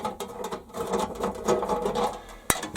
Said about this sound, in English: just undo the 2 hand wheels on the back here